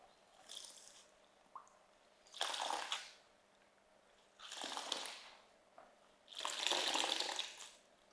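Water sloshes and splashes in several separate bursts as drumstick leaves are swished and rinsed in a basin, with quiet gaps between.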